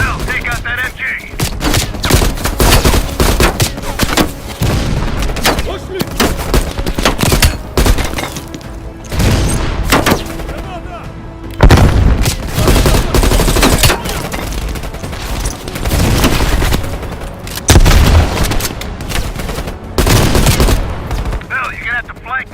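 Intense machine gun bursts in Call of Duty: Cold War campaign combat, loud rapid gunfire stuttering in repeated volleys amid explosions and battlefield clutter, with shouted voices mixed in.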